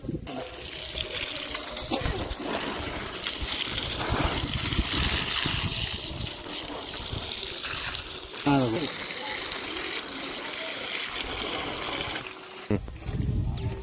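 Water runs and splashes over a large rock fish being washed, a steady broadband wash with brief clatter and handling knocks, close and fairly loud throughout.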